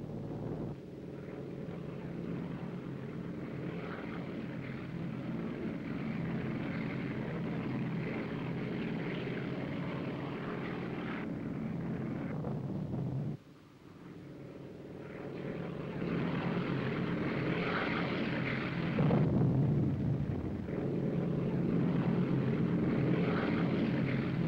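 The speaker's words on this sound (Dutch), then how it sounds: "Snel achter elkaar landen nu de vliegtuigen." Aircraft landing aboard the Dutch aircraft carrier Karel Doorman, a continuous loud propeller-engine drone with a brief dip midway, then the roar swells again as planes come in one after another.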